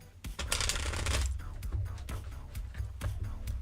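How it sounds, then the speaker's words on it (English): Tarot cards being shuffled by hand, a steady riffling and flapping that builds into a dense flurry then continues in lighter bursts, close and fairly loud with no talk. "The final shuffle."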